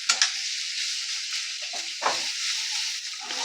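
Chili powder and spices frying in a pan, a close, steady hiss broken by a few spoon scrapes and clatters near the start and middle, with no voice.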